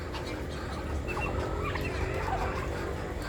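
Farm ducks quack and chatter in a busy flock nearby, overlapping calls over a continuous murmur of birds.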